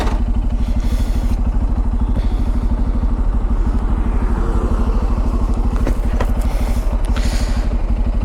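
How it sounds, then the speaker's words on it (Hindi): A Bajaj Pulsar N250 motorcycle exhaust idles with a steady, fast, throbbing pulse, loud and close, with light mechanical clatter throughout. "एग्जॉस्ट का साउंड सुन लो।"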